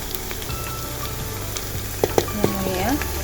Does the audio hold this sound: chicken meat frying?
yes